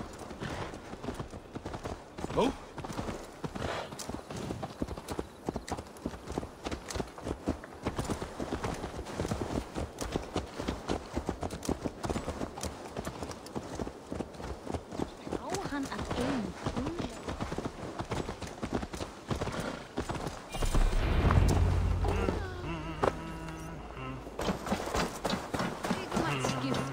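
Horse hooves clip-clop steadily in Assassin's Creed Valhalla, a continuous rhythmic trot running through the whole stretch beneath game music and ambience, with a brief spoken exclamation near the end.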